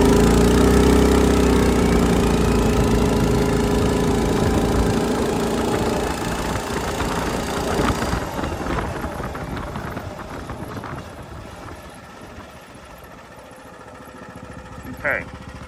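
The engine of a home-built KJRaycing VF-1 crosskart roars loudly up close as it accelerates, then its buzzing note gradually fades and thins as the kart pulls away.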